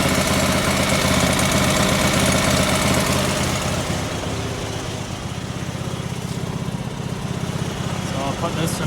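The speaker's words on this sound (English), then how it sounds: "Sometimes these 445 don't run great when you're cold, so I'll let it warm up and see what it does." A John Deere 445 lawn tractor engine idles while warming up from cold, a steady, close mechanical drone with a slightly uneven knocking pulse throughout.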